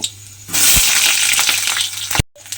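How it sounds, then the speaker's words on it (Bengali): Eggplant pieces hit hot oil with a sudden loud, bright sizzle that stays steady and hissing for nearly two seconds before cutting off, with a low hum underneath and no talking. "এইবারে বেগুনগুলো আমি তেলের মধ্যে দিয়ে দেব।"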